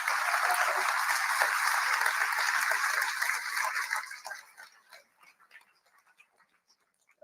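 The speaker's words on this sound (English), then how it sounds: "So another round of applause for these wonderful men." Assembled audience in Alberta applauding a group of men, full clapping for about four seconds, then thinning to a few scattered claps and fading out.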